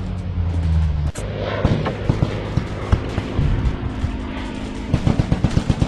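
Rapid gunfire in a robot first-person shooter on Android, with dense bursts of shots and heavy booms, loud and continuous over a rumbling background.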